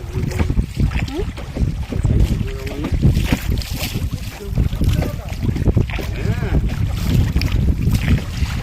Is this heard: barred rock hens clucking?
no